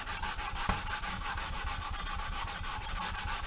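Steady, brisk back-and-forth rubbing of sandpaper over a primer-coated plastic scale model, close and continuous with a fast scratchy rhythm and no talk.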